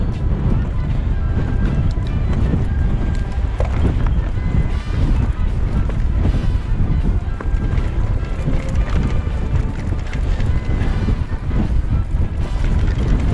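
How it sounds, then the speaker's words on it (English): Strong gusting wind roars continuously and loudly across an exposed trail in the Black Mountains during a blustery e-bike ride on an Orbea Rise H15, buffeting close to the microphone with no let-up. "the wind's really got up now, left to right"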